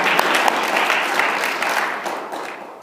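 A neighborhood association meeting audience applauds a new volunteer, a lively spread of many hands clapping together that stays steady and then tapers gently.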